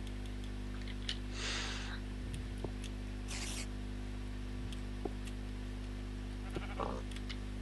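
Sheep in the video game Minecraft bleat in a few short, fairly faint bursts spread across the stretch, over a steady low background hum with occasional clicks.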